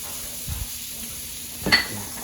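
Butter melts in a pan holding residual oil and flour for a pepper sauce, giving a steady close sizzle with a couple of soft utensil knocks against the pan.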